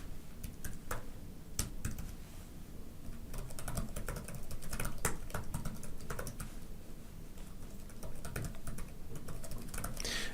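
Admin login credentials are typed on a computer keyboard in quick, uneven bursts of crisp key clicks, close and clear over a low room hum, with no voices.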